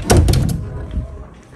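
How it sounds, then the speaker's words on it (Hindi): A home door swings shut with a single close, heavy thunk and a short rattle that quickly dies away, with no talk over it. "मच्छर ना आ जाए, मैं जरा दरवाजा बंद करूं"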